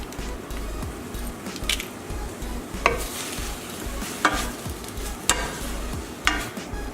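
Sour cream stirred into kale in a pan on a very low simmer, a soft steady sizzle with wet squishing and periodic sharper clinks of a utensil against the pan roughly every second or so, close, no talk.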